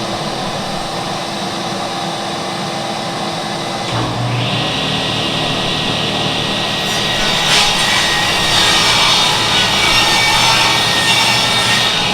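A saw cuts through a 3/4 inch plywood sheet in one continuous, loud, rough whine that shifts and brightens partway through, close up with no speech.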